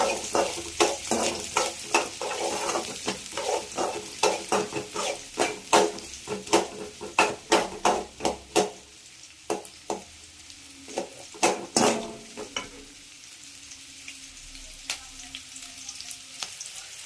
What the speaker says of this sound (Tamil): அப்புறம் நம்ம கட் பண்ணி வச்சுருக்க ஆனியனும் அதில் போட்டுடலாம். நல்லா வதக்கணும்.